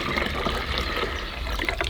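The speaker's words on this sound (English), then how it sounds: "We pour it in a vessel" Maple sap pours into a vessel with a steady liquid trickle and splash, soft and continuous at close range, with a few small drips and gurgles.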